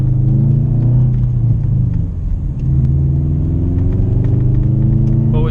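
A 2013 Subaru WRX drives on snowy roads, its engine a loud, steady low rumble heard from inside the cabin, dipping briefly before settling back to a constant drone.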